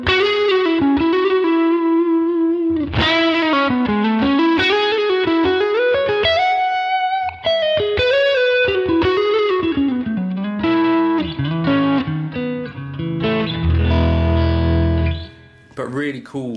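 An electric guitar played through a Helix Divided by 13 JRT amp model on its Drive 2 channel rings out in distorted, chorused phrases with sliding bends and sustained notes, loud and close, ending with a sudden cutoff.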